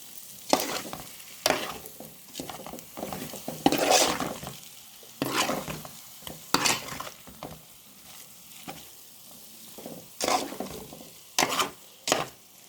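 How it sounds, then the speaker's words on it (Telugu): Potato fry pieces being turned slowly in a pan, with repeated scraping stir strokes over a steady sizzle, close and fairly loud, coming in uneven bursts. "స్లోగా ముక్క చెదరకుండా మిక్స్ చేసుకోవాలి"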